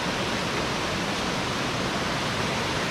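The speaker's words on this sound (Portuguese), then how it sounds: "mais de 8 cachoeiras" A waterfall at an abandoned mine site gives off a constant, dense rushing roar, steady and fairly loud with no breaks and no voices.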